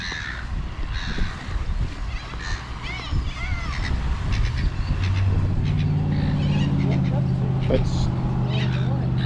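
Corellas and seagulls squawk and screech in harsh bursts outdoors near water, with a low power boat engine rumble growing underneath in the second half.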